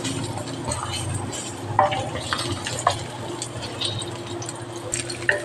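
Onions sizzling in hot cooking oil in a pan for a pork steak dish, with a steady frying hiss and occasional scraping stirs and clinks of a utensil against the pan, close and continuous without talk.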